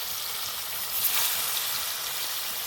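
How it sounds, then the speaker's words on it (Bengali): A big snakehead fish sizzles as it fries in hot oil in a wok at an outdoor picnic. The crackle is steady and close, with a brief louder flare partway through, and no voices. "তো বন্ধুরা দেখো মাছটা ভাজা চলছে,"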